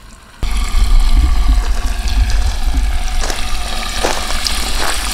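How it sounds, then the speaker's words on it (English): Water pours into a shower drain during a drainage-line water test. It starts suddenly, then runs as a steady close rushing flow with some gurgling and splashing. "we got the water going in to our shower drain"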